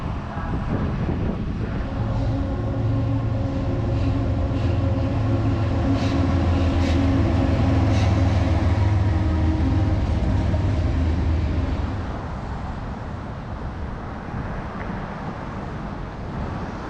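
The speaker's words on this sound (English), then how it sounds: "This station serves both Amtrak and Sound Transit's commuter trains." A train rumbles through King Street Station in Seattle, a station served by Amtrak and Sound Transit commuter trains, with a loud, sustained low engine drone that swells and then eases off toward the end.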